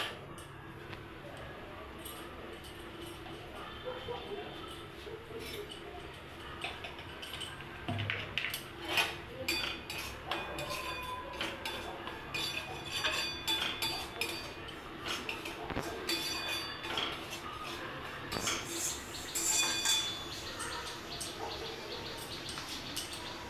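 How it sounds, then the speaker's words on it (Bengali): Semolina being stirred and fried in a pan, heard as soft, quiet scraping and intermittent clinks of a utensil against metal, irregular and close, with some faint low background noise. "সুজিটা ভালো করে আমি নেড়ে নেবো। ভালো করে একটু নেড়ে ভেজে নেবো।"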